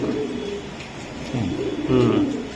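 A racing pigeon coos in low, throaty bursts, close by, with a faint voice and room noise underneath.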